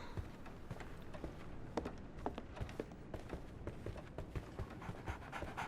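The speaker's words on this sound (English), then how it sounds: "Oh, is there a dog?" A dog pants in the Sherlock Holmes video game: quick, steady huffs repeat close by for several seconds over a busy, low background.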